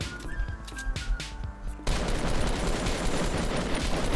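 Gunfire in Fortnite, a dense burst of rapid shots that cuts in midway and continues as a sustained, loud rattle after a quieter stretch of game sounds.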